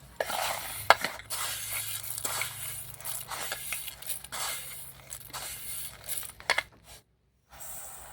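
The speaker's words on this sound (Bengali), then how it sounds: "এক কাপ দিলাম জামবাটির মধ্যে আবারও এক কাপ দিলাম দু কাপ" Dry mustard seeds, washed and sun-dried, poured a cup at a time into a metal bowl, making a steady granular rattling hiss with sharper clinks at moments and a brief pause near the end.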